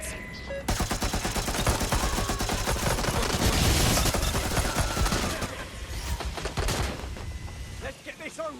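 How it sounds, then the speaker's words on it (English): Dense, loud gunfire in the video game Watch Dogs Legion, rapid overlapping automatic bursts and shots fired close by, continuing for several seconds before thinning out into a few scattered shots, with voices mixed in. "Incoming fire!"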